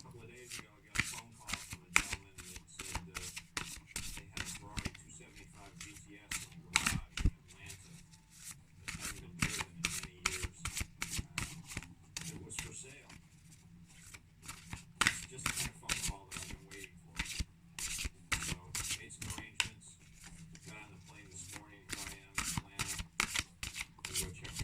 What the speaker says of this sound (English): I'll give the cards one more shuffle